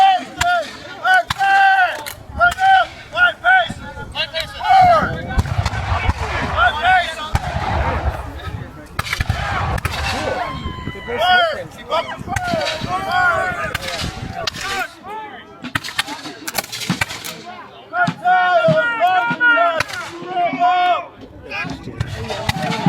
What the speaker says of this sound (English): Now, as the soldiers are firing, you're going